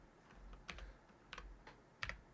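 Several sharp keystrokes on a computer keyboard, spaced irregularly with a quick double tap near the end, quiet and close with no talking.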